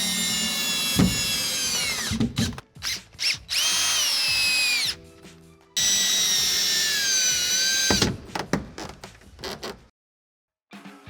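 A power drill drives screws to fix a Delta Classic 500 shower wall panel, in several loud whirring bursts of varying length broken by short pauses, then quiet at the end.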